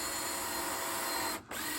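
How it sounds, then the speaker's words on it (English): A power drill drives screws into chainsaw-milled live edge siding boards on a generator shed, heard as a close steady motor whine that runs almost continuously and cuts out briefly before resuming. "we're just putting screws right in the middle"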